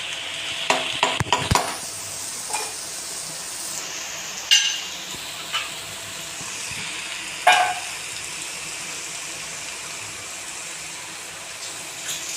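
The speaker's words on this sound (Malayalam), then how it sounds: "ഇളക്കി കൊടുക്കുക." Broken-wheat upma is stirred in a pan over a faint background hiss, with a cluster of sharp scrapes early on and a few isolated spatula knocks spaced several seconds apart.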